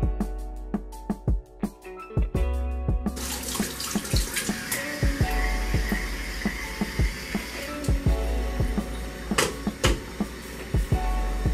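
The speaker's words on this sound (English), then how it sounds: "I'm going to rinse my brush off" A skincare brush rinsed under a running bathroom tap, with the water stream starting after a few seconds of quieter clinks and continuing with splashes and knocks of the brush against the sink.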